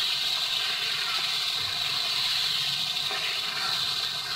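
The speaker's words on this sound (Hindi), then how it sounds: "थोड़ा थोड़ा पानी डाल के मैं इसकी भुनाई करूँगी।" Water added to beef frying with spices gives a steady, bright hiss and sizzle that holds level for several seconds, moderately loud and close, with no talk over it.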